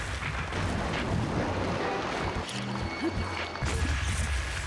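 A bomb goes off in The Legend of Zelda: Breath of the Wild on Eventide Island, a loud rumbling boom that stays heavy through the stretch, with a short lull and then renewed low thuds.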